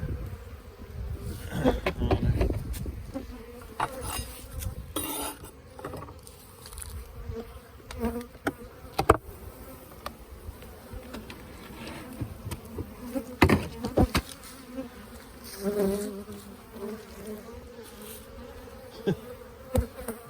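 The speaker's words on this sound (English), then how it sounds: "Here's a bee with pollen." Honeybees buzz around an open hive being inspected, a soft continuous drone with individual bees flying close past in louder swells, mixed with light handling clicks and knocks.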